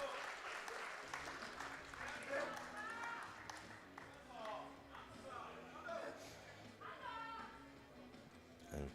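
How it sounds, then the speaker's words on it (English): A home crowd at a world powerlifting championship in Denmark applauds and cheers, a continuous distant roar of clapping and voices with commentary speech running over it. "Got the home crowd advantage, you can certainly hear them."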